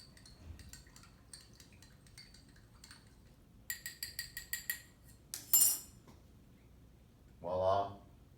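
Salt is stirred into water in a container, heard as faint tinkling clinks of a utensil against the vessel. The clinks come in sparse taps, then a quicker cluster, with a soft voice murmuring in the background.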